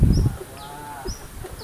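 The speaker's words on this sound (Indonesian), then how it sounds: "ada yang miara puyuh" Quails kept by villagers in a rural Indonesian village give short soft calls and chirps, a few brief bird notes close by over low rustling and a quiet outdoor background.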